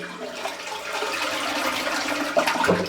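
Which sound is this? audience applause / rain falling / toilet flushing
toilet flushing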